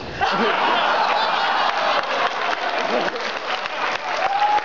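A crowd at the PAX East gaming convention rises in a standing ovation, loud sustained clapping with scattered cheers and murmuring voices mixed in throughout.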